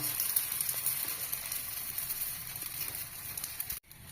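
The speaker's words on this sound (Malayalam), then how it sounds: "ഇനി ഇത് ദോശക്കല്ലിലിട്ട് ചുട്ടെടുക്കണം" Paratha sizzling on a hot dosa griddle, a continuous bright hiss with small crackles, steady and close, briefly cut off near the end.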